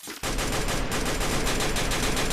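Loud, sustained automatic gunfire in the Free Fire battle royale game, a dense rapid burst starting abruptly after a brief quiet moment and continuing steadily without voices.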